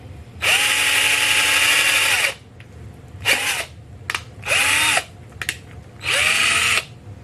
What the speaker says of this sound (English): the smallest hole is the one you want to drill with the drill bit that came with it